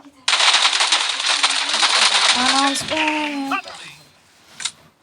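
Rapid automatic gunfire from the mobile game PUBG Mobile rattles loudly for about two seconds, followed by sharp single shots and metallic clinks, with a person talking over the game sounds.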